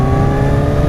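Kawasaki Z1000 motorcycle accelerating on the road in sixth gear at about 74 km/h, a loud, dense engine roar close by, steady throughout the brief moment.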